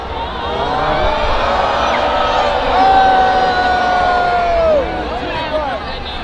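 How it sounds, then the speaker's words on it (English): A large street crowd at the Thanksgiving parade cheers for the passing Goku balloon, a loud sustained roar of voices with whoops and shouts rising and falling over several seconds. "There's so much cheering for him."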